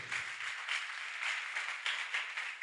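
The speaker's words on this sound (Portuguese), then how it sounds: "Eu já dava a melhor salva de palmas para Jesus." Warm, continuous applause rises from a church congregation during a sermon, a full wash of many hands clapping at steady strength with no speech.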